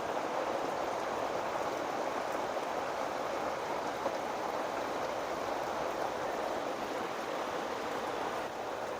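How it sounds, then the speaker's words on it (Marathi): Heavy early-morning rain that follows a gust of wind falls outdoors as a steady, even hiss. It sounds moderately distant and stays constant throughout, with no voices. "आता सकाळी सकाळीच आमच्याकडे जोरदार पाऊस सुरू झालेला आहे."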